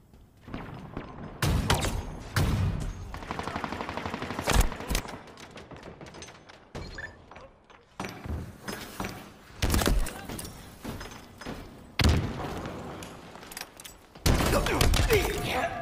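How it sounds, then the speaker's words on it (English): Heavy shotgun blasts and chaotic gunfire from a Halo match, loud repeated booms with crunchy impacts scattered irregularly through the stretch, some shots in quick bursts, with faint game effects between them. "Okay, I'll take the shotgun."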